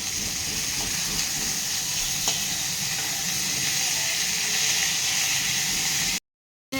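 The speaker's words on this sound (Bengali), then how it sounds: "মাথা ভাজা হয়ে গেছে, এখন আমি নামিয়ে নেব" Fish head frying in hot oil in a kadai, a steady close sizzle and hiss running throughout with no talk, ending abruptly.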